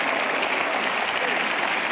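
Studio audience applauding steadily for two seconds on a French television talk show, dense and even clapping from a crowd close by.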